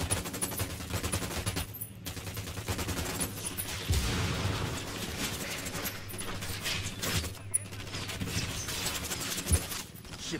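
Sustained bursts of automatic gunfire in the video game Ghost Recon Wildlands, a dense continuous fusillade with a few sharper single shots standing out, loud and close throughout with no one speaking.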